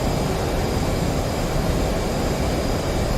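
An F/A-18 Hornet jet engine roars steadily in DCS World during a low flyby over the Persian Gulf, a loud continuous rushing drone with a faint high whine and no talk.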